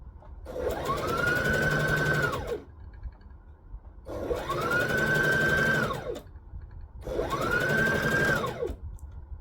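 A sewing machine stitches in three steady runs of about two seconds each, humming and whirring up to speed and then halting, with short quiet gaps between runs.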